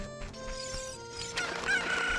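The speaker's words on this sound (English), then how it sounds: "Hardest chicken to find in the game." Chicken in The Legend of Zelda: Ocarina of Time, its clucking and crowing-like calls rising over a steady game music backdrop, growing louder toward the end.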